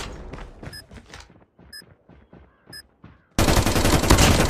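Call of Duty Mobile in Search and Destroy mode: an in-game voice speaks over short electronic tones, then a loud, dense stretch of rapid gunfire takes over.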